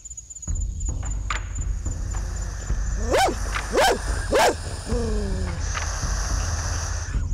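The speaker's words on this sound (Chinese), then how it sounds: "狗叫声越来越近" Stray dogs bark near a barn owl nest, giving three sharp, loud barks in quick succession followed by a falling whine, over a steady background of insect chirping.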